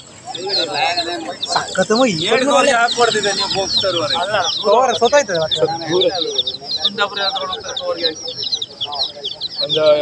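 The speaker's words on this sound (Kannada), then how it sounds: "ಕೋಳಿ ನೋಡಿ ಕೊಳಿ ಮರಿ ಕೊಳಿ ಮರಿ" Chickens and chicks cluck and squawk continuously and loudly at a weekly market in Bhatkal, with busy market voices mixed in throughout.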